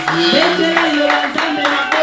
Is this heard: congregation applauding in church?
yes